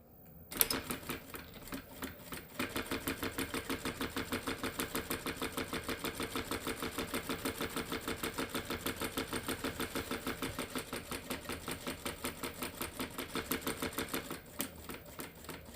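A sewing machine stitches in a fast, even mechanical rhythm for several seconds, starting and stopping cleanly, fairly close and moderately quiet.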